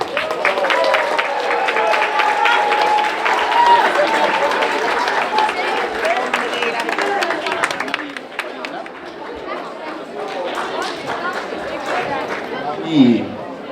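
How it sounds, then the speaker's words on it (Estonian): Applause and crowd chatter at a school Christmas party as a class is honoured, a broad noisy wash of clapping and voices that thins partway through, with talk mixed in. "Aplaus neile"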